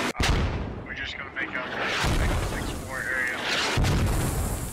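A mortar round bursts with a heavy boom in the military shooter Squad, followed by rumbling blasts and battle noise, with a voice talking over the chaos.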